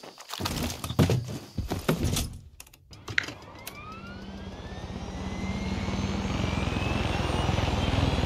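Helicopter in the shooter Far Cry 6 spooling up and taking off after some clattering footsteps, its steady rotor and engine roar swelling into a loud continuous drone with a rising whine.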